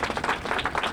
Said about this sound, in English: we give a round of applause to Jim and Matthew Rosenheim for their visio